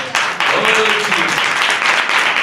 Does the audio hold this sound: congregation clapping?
yes